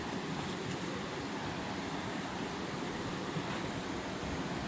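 A river flows steadily beside a hostel on the Colorado Trail near Lost Creek, a continuous, moderately faint rushing wash with no other sounds.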